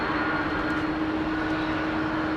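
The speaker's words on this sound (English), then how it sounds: "Trunk Pratt & Whitney engine heavy. Yeah, PW 4000s on this" A Boeing 777 with Pratt & Whitney PW4000 engines at London Heathrow Airport gives a steady, loud jet roar with a constant low hum running through it, close by and with no voices.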